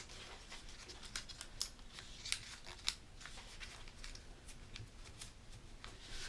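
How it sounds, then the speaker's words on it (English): Origami paper is folded in toward the center and creased for an Easter lily model, with soft rustles and a few sharp crisp crackles at close range. No one talks. "You're going to fold it in to the center."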